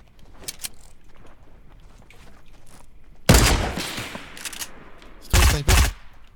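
Sniper rifle shots in the battle royale game Fortnite, one loud blast with a lingering tail followed later by two more sharp reports, with faint clicks and background activity between them.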